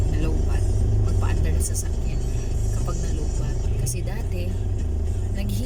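A car engine idles steadily right after being jump-started from a dead battery, a loud continuous low rumble that runs throughout while a person talks over it.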